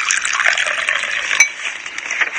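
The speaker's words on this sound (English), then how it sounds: "This is the sound of breakfast in bed." Cutlery clinks and a spoon stirs in a cup for a breakfast-in-bed scene in a British Gas advert, a close, busy run of small metallic taps and scrapes with one sharper clink near the middle, with no talk.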